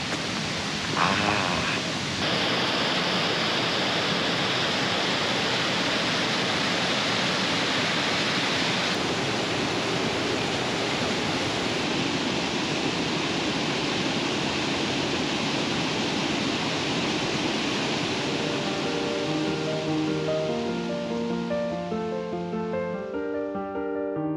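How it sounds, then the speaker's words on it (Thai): The roaring Tad Fane waterfall near Pakse, Laos, gives a constant, heavy rush of falling water that stays loud and unbroken from start to finish. "เสียงน้ำตกแรงเหมือนกันนะเนี่ย"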